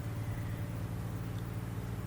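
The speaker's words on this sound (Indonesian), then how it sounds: "Mohon maaf ada suara mobil." A car passing outside, heard as a steady low engine rumble that continues throughout without speech.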